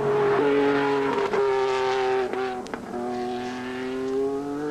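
A Peugeot twin-turbo V6 race car of about 500 horsepower at the 1981 Le Mans 24 Hours, its loud, sustained engine note holding steady with brief dips and shifts as it runs at speed.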